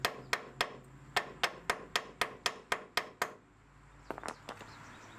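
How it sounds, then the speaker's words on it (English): A hammer taps a bolt into place on a rusty, high-mileage GMC Envoy: about a dozen sharp, evenly spaced metallic strikes, then a pause and a few lighter, quicker taps, close and clear with no talking. "Tap it down a little bit more. And we'll put our bolt in there."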